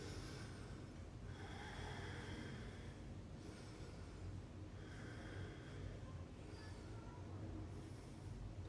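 A person holding a yoga pose breathes slowly and faintly through the nose, about five soft breaths in a steady, even rhythm.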